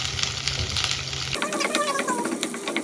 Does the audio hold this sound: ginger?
yes